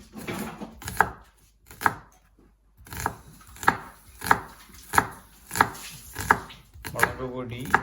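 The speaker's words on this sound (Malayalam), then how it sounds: "ഒനിയൻ ചെറുതായിട്ട് അരിഞ്ഞെടുക്കണം." A knife chops an onion finely on a board in a home kitchen, sharp evenly spaced strikes about one every 0.7 seconds after a short pause, close and distinct with no talking.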